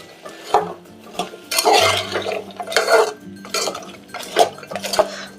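A spoon scrapes and clatters in a pan while spiced vegetable curry with garam masala, coriander and cumin powder is stirred, irregular metallic knocks and scraping strokes, close and moderately loud, with no talking.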